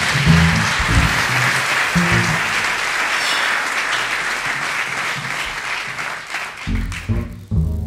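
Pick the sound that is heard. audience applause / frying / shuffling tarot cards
audience applause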